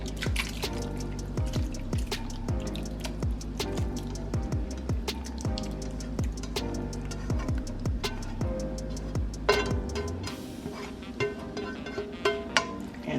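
Liquid is poured into a pan of creamy garlic sauce for a garlic chicken dish, giving a steady run of close drips and wet splashes and bubbling that shifts to a thinner sizzle near the end, without talk.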